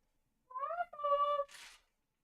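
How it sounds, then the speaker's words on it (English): A cat meows twice indoors, two clear rising-and-falling calls close by with a short breathy sound after, otherwise quiet and without talk. "I can hear a kitty cat."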